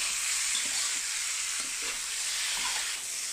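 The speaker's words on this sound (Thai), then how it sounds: "ผัดให้เข้ากับน้ำมันนี่หอมๆเลย โอ้มีความหอมของขิงขึ้นมานะผัดน้ำมันนะ" Julienned ginger stir-frying in hot oil in a pan, with a steady, close hiss of sizzling and a few soft stirring scrapes beneath it.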